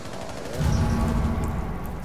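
Dense, continuous gunfire in a tactical shooter video game, a rapid crackling fusillade that swells in the middle and holds steady to the end, without speech.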